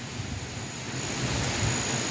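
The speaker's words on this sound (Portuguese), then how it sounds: "aqui tem um riozinho, aqui tem inclusive uma cachoeira aqui perto" Small river stream flowing through a forest near a waterfall, a steady broad wash of running water that holds at an even level throughout, fairly close and continuous with no voices.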